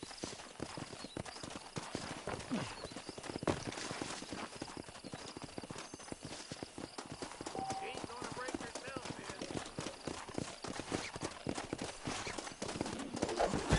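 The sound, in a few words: wild horse hooves, from video game Red Dead Redemption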